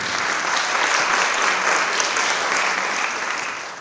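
Warm audience applause for a performer at a live poetry and music show, a full, even burst of clapping from a crowd that stays steady and close for a few seconds before starting to taper.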